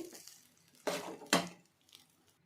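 Mango rice being mixed in a pot, with a few scraping, clinking strokes of a spoon against metal, two of them louder, otherwise quiet.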